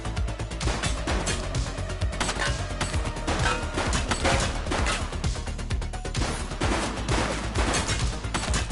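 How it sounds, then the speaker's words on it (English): Dense, sustained gunfire from the police game The Precinct on PS5, rapid overlapping shots and bursts filling the whole stretch at steady loudness, with crashing impacts mixed in. "He's shooting!"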